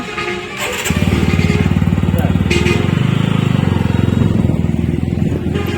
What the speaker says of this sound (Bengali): এর বাইকে করে মা চলে যাচ্ছে এখন।